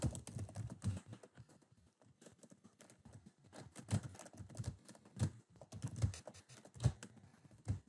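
Typing on a computer keyboard: irregular bursts of close, soft key clicks in quick runs with short pauses, no voices.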